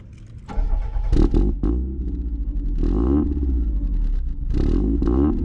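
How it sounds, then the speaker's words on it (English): A Mazda MX-5 with a loud custom exhaust cranks and fires up close by, settling into a deep rumbling idle with a couple of throaty blips. "Start it up, Zan."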